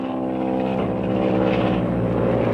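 A propeller airplane takes off in a 1937 serial film, its engine a loud, steady droning roar that holds without pause and swells slightly toward the end, with no voices over it.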